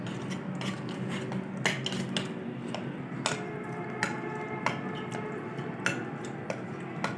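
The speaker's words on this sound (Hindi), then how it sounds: "सारी चीज़ों को अच्छी तरह से मिक्स कर लेंगे।" Spices for a fish fry masala, ginger powder and cumin powder among them, stirred together in a bowl with a spoon, heard as quiet, irregular clinks and scrapes against a steady low background hum, with no talking.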